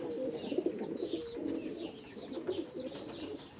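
Baku pigeons coo continuously in repeated low, throaty rolls, several birds overlapping close by, with faint higher chirps above.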